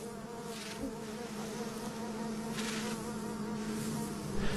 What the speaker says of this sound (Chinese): 到了五月，蜜蜂结束冬眠，开始出动了